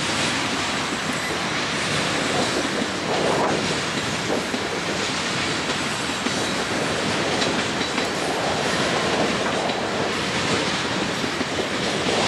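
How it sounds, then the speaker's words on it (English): A long train rolls past steadily, wheels clattering and rumbling over the rails with a continuous roar that stays loud throughout. "That's a long train."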